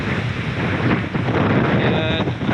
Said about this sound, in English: yeah, it's getting a little windy